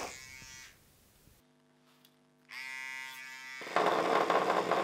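Electric toothbrush resting on a desk gives a faint, thin buzz that stops for about a second, then returns as a steady hum before a louder rush at the end.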